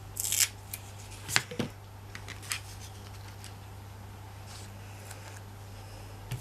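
Several sharp snips from scissors cutting double-sided 3D tape, in scattered quick bursts early on, then fainter clicks over a steady low hum.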